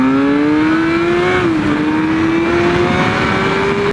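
A V6 motorcycle engine revs loudly and steadily up close, its pitch climbing, dipping slightly, then rising again.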